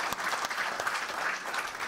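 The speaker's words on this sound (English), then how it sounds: "So shall we give a round of applause to this ethical, values-based leadership?" Audience applause at an annual memorial lecture, a steady dense patter of many hands clapping throughout, fairly even in loudness with no voices standing out.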